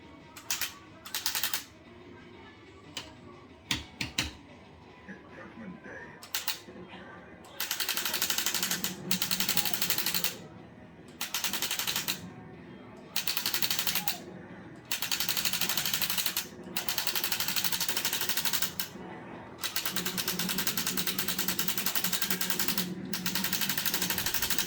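Rapid bursts of machine-gun fire from a Terminator 2 arcade cabinet, coming in repeated loud stretches that grow longer and steadier toward the end over a low electronic game soundtrack.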